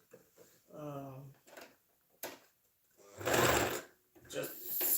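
A sewing machine runs in a short steady burst while stitching straight along fabric, its buzzing whir stopping and starting among handling noises and brief bits of speech.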